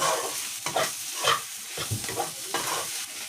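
Fish fries in a pan in a home kitchen, with a soft crackling sizzle broken by irregular scraping and stirring strokes close by. No one speaks.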